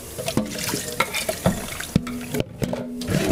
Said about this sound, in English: In with the sauce. Another good sizzle.